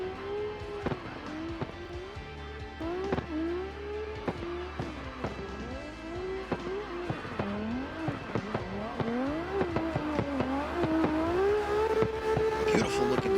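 A Mark IV Toyota Supra makes a run down a mountain touge. The engine pitch rises and falls repeatedly through gear changes and throttle lifts, with sharp shifts and some tire squeal, heard at moderate distance.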